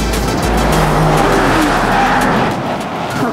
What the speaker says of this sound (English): We are going top speed around this corner.